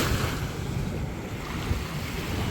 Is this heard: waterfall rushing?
yes